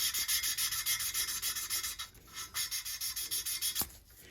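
Rapid rhythmic scratching and grinding of a Honda GX270 engine valve being lapped by tapping and twisting, repeating in quick strokes with a short pause midway, close and steady with no voices.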